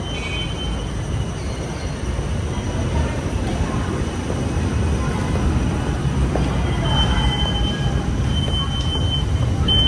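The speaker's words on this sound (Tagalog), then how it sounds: "sakay na kami ng tren." Steady rumbling of a train running on rails from Baclaran Station, with faint squeals of the wheels and a few muffled voices under the noise.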